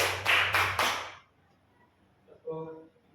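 Children clap hands four times in quick, even succession during a classroom counting game, loud and close, followed by a short pause and a brief voice.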